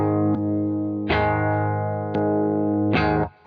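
Distorted electric guitar played through a Taurus Servo 2 amp with its volume boost engaged: a few sustained chords struck one after another, each ringing out with a thick, slightly hairy tone, close and loud.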